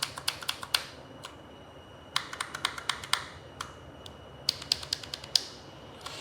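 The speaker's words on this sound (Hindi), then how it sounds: "अब मैं आपको एक डेमो दिखाना चाहता हूं कि इसके स्विचेस साउंड कैसे करते हैं" A Razer mechanical gaming keyboard with green and yellow switches is typed on in clusters of sharp, close-up clicks. Short pauses separate the clusters, and the clacking is loud and snappy against a quiet background with no talk.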